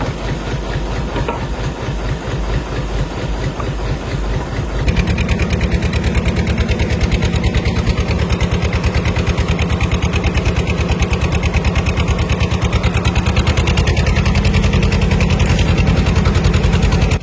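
A fishing trawler's engine runs steadily with a loud, rhythmic low chugging knock that grows fuller and louder after the first few seconds, with no talk over it.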